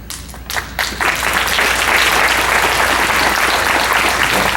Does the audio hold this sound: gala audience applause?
yes